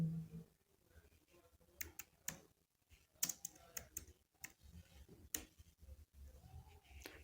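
Someone types on a computer keyboard while entering Excel spreadsheet cells: scattered, irregular key clicks and taps, fairly quiet and close, with pauses between short bursts and no clear talk.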